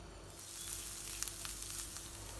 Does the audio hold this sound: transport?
no